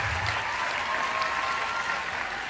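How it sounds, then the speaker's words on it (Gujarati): Sustained, dense applause from an audience at a school award ceremony honouring Urmi School, steady and loud throughout with no talk over it. "તો એકવાર જોરદાર તાળીઓ થઈ જાય ઉર્મી સ્કૂલ માટે"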